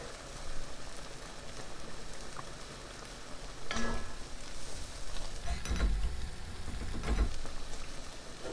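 Garlic frying in butter in a pan alongside tender vegetables that have given off their liquid, a soft steady sizzle with a few louder crackles and pops, close and fairly quiet.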